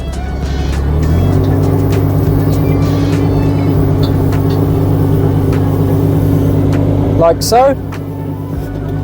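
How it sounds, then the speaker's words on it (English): A diesel engine on a Kubota 1.7-tonne excavator runs loud and close, its low droning hum rising as the machine spins around on its tracks, with a brief spoken remark and a high squeal near the end. "So we need to spin the machine around so that the blade's behind us and the bucket's in front of us."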